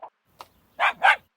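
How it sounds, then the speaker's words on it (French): A dog barks a few times close by: two short yips followed by two louder, fuller barks in quick succession. "Un chien."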